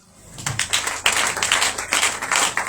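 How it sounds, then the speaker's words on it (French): Audience applauding at a religious conference, a burst of quick hand claps that builds from silence into a loud, steady patter, close and continuous with uneven peaks. "Acclame Jésus."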